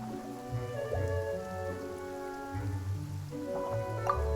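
Rain falls steadily in a game scene, a soft continuous patter of drops on surfaces beneath sustained background music, fairly quiet and even throughout.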